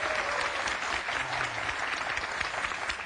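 Applause from the audience at a talk show, a steady, even wash of many hands clapping, moderately quiet and continuous with a faint low murmur beneath.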